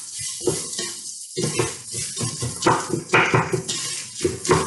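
A lentil mixture with onions is stirred in a pan for lentil patties, spoon scraping and clattering against the metal in a steady run of close, busy strokes, with faint sizzling underneath.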